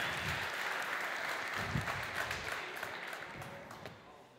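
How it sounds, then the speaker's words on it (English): Audience applause for a startup contestant on stage at the TechChill 2018 founders competition, a fairly faint, steady crowd clapping that gradually thins out, with a few voices mixed in underneath. "Give them a big applause."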